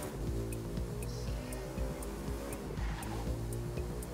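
Car engine and tyre noise from the racing video game The Crew 2 on PC, a steady loud drone with shifting engine tones and occasional sharp ticks, continuous throughout with no talk.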